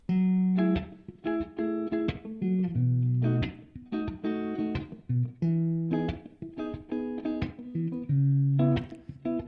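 An electric guitar, recorded in Logic Pro X with EQ off, plays a choppy riff of short chords and single notes, with a full, unfiltered tone and brief gaps between phrases.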